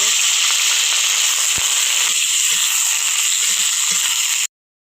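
Garlic, onion and green chili fry in hot oil for beef khichuri, giving a loud, steady close sizzle with occasional crackles and stirring clicks that cuts off abruptly at the end.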